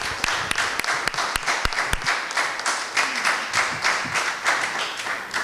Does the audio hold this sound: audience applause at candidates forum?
yes